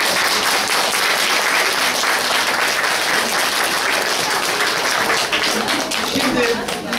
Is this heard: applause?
yes